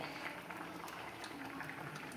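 A coconut-milk curry simmers in a saucepan on a home stove, giving a faint, steady bubbling with soft pops and no voices.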